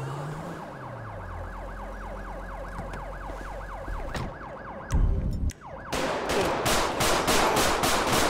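In Grand Theft Auto V with the LSPDFR mod, a wailing ambulance siren cycles rapidly up and down, then gives way to sharp bangs and a burst of rapid-fire gunshots with game-like sound effects.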